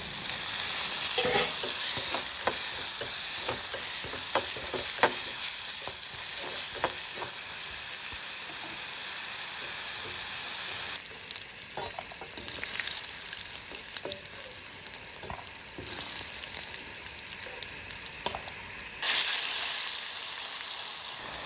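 Onions and tomato sauté in a pan for a home lunch of prawn, crab and squid curries, giving a steady, close frying sizzle with occasional stirring scrapes throughout and no talk.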